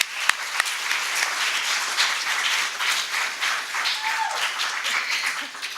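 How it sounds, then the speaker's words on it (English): A large audience applauds after a live performance at an evening awards event, a steady, dense wash of clapping that holds throughout, with no talk over it. "Can we give her another round of applause, please?"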